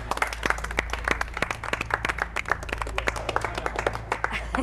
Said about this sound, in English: An applause for the madam.